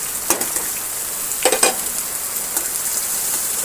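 Onions and green chillies deep-frying in hot oil with curry leaves, a steady bright sizzle throughout, broken by a few louder stirring scrapes of a spoon in the pan, close up with no talking.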